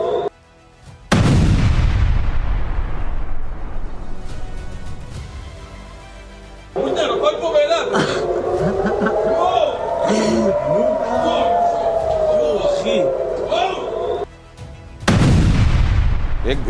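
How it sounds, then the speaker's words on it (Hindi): Artillery fire in news footage: a heavy, loud boom with a long rumbling tail opens the scene, voices and crowd noise follow in the middle, then another powerful blast hits at the end. "एक भीषण धमाके की आवाज आती है"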